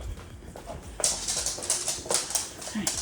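Small dog whimpering and whining indoors after its owners return home, with brief high yelps over scratching and shuffling movement; people are greeting the dogs nearby.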